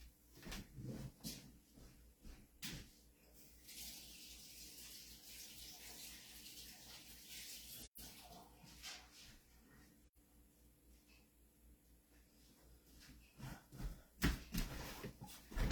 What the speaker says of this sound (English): I am going to take 2 seconds and just go and wash my hand